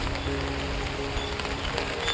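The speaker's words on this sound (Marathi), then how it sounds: "मस्त पाऊस पडतोय, एकदम छान वातावरण झालेलं आहे." Rain falling outdoors as a steady, dense hiss with no gaps, moderately loud and even throughout, with no voices.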